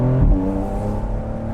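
A 2020 Porsche 911 Carrera 4S Cabriolet engine, a loud, deep revving burst that settles into a steady rumbling tone, close up with no talk.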